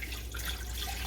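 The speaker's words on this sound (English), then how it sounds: "8 cups of water of the same temperature." Cold water splashes steadily into a Carey pressure canner loaded with raw-packed chicken in jars, a close, continuous pour with no talking.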